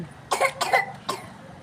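A child coughs three times in quick succession, short and sharp, close by and fairly loud, with a brief pause before the last one.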